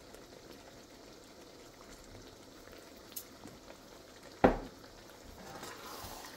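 Sweet and spicy chicken feet cooking in a pan, a steady soft sizzle and bubble with one brief louder scrape of stirring, close and otherwise quiet.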